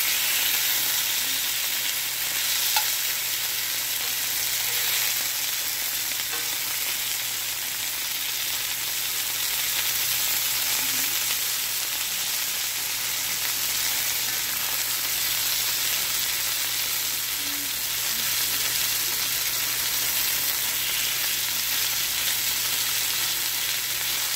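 Chicken pieces browning in a hot pan for a rice-noodle and vegetable dish give a steady, loud, close sizzle and hiss, unbroken for the whole stretch with no talking.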